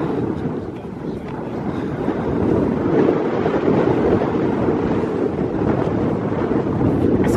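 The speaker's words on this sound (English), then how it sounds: "It's windy." Strong wind buffets the microphone along the North Norfolk coast near Hunstanton, a continuous loud rumbling roar that lasts throughout without any talking.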